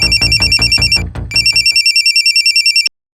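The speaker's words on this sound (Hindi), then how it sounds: "हॉस्पिटल से फोन था सर" Telephone ringtone for a call from a hospital: a loud, rapid electronic ring repeating in quick pulses for nearly three seconds, with a brief dip partway through, then cutting off abruptly into silence.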